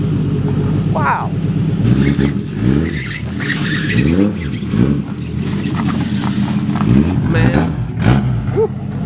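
Straight-piped Nissan Skyline GT-R with an RB26 engine making 600 wheel horsepower, revving hard in repeated rising and falling surges, loud and close, with people's voices exclaiming over it.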